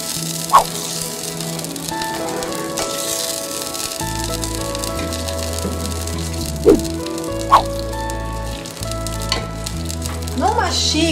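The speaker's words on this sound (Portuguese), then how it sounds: "Na frigideira que nós selamos a nossa carne, eu vou pegar um pouco do caldo da panela de pressão e vou usar aqui para fazer" Broth from a pressure cooker hits a frying pan where meat was seared, giving a loud, continuous sizzle with a few sharp clinks of a utensil and a low hum beneath.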